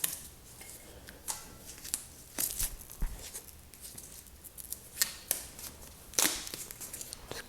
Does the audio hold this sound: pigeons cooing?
no